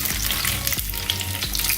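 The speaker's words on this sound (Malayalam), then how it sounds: "ഇതേപോലെ നമുക്കെല്ലാം ഒന്ന് ഫ്രൈ ചെയ്തെടുക്കാം." Homemade chicken nuggets fry in hot oil with a steady, loud, dense sizzle and crackle close by, broken by a few soft scrapes of stirring, with no talk.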